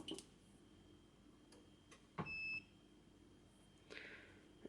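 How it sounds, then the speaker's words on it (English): A door access unit on an Apollo/Hochiki addressable fire alarm system comes back online after reset, giving a short, clear electronic beep amid quiet room tone, with faint clicks and ticks around it. "you'll hear a beep as the door comes back online"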